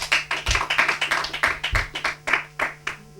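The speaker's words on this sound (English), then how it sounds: "A round of applause for the contestants." Scattered, sparse clapping for quiz show contestants from a small studio audience, distinct individual claps in an irregular quick rhythm, fairly close and moderately loud.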